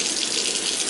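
Water runs steadily from a tap while a young child's hair is washed, a continuous close splashing flow without talk.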